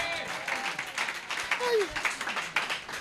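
Worship congregation at a praise service applauding and cheering for the Lord, a dense wash of clapping and raised voices continuing steadily throughout, with a sustained vocal cry rising in the middle.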